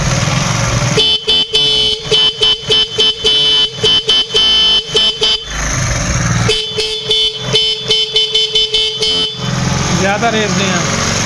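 A powerful horn run without a battery gives repeated loud, rapid honking bursts with a motor-like buzz, in two long stretches and with someone talking over it.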